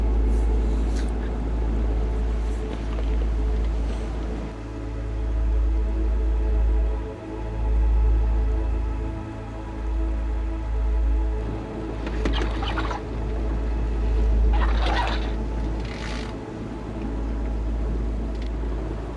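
A ship approaching across the water near Klaipėda, heard from aboard the sailing yacht S/Y Salty, an Albin Vega, as a steady low engine rumble running throughout with wind and water noise and a few brief bursts of sound.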